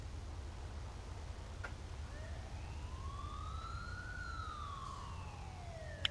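An ambulance siren in Grand Theft Auto IV sweeps slowly up and then down in pitch, moderately distant, over a steady low rumble, with a brief sharp click at the end.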